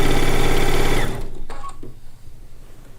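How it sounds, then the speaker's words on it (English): A sewing machine runs loud and steady for about a second, stay stitching along the edge of a log cabin quilt top, then stops, leaving a few faint clicks and handling sounds. "It won't take but a couple minutes to do the stay stitching."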